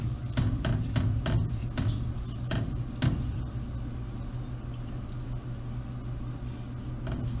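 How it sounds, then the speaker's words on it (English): Canned tomatoes from a 28-ounce can tipped into a pot of West African peanut stew on low heat, with wet plops and a few sharp clanks of can against pot early on, then a softer ongoing splatter. "adding in my tomatoes"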